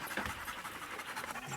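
A tired husky on Svalbard pants rapidly after running, close and fairly quiet, a quick even rhythm of breathy huffs with no talking.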